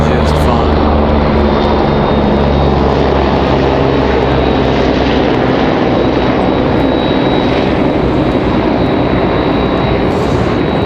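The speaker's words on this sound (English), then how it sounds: "There's our Duke Lifeline flying over." A Duke Lifeline medical helicopter passes overhead near Raleigh Durham International Airport, a steady broad engine and rotor roar holding loud throughout, with faint voices beneath.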